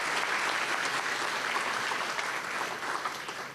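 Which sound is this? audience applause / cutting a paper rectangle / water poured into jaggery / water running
audience applause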